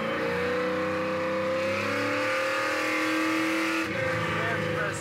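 A Chevrolet C10 pickup truck engine roars and accelerates hard at full throttle, a loud, sustained rising drone that continues with a brief shift near the end.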